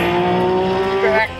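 RUF race car engine in the iRacing simulator, a loud sustained high-revving whine that climbs in pitch, then drops as the throttle lifts near the end.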